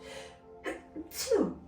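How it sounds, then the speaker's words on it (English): A single close sneeze, with a quick intake of breath before the loud burst, in an otherwise quiet room. "I need to sneeze."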